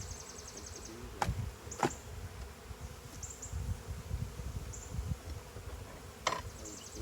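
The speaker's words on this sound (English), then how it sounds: "Take the bees off." Honeybees buzz steadily around hive frames during a check of colony splits. The low hum is close and continuous, with a few sharper knocks and scrapes from handling the frames.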